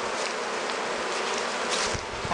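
Honey bees buzz in a dense, continuous drone, close and loud, while they are being moved into fresh hives. The sound is unbroken throughout, with no talking heard.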